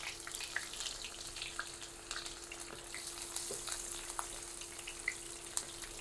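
Chopped garlic frying in hot oil makes a quiet, steady crackle, with a handful of small sharp pops scattered throughout and a faint hum beneath.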